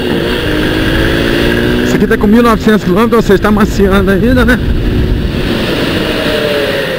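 A Honda XRE 190 motorcycle, still breaking in at about 1,900 km, hums steadily as it is ridden, its engine drone running under close, continuous talk from the rider.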